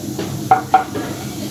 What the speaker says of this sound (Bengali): 2-3 সেকেন্ডের মতন আমি ফোড়নটা একটু ভেজে নিলাম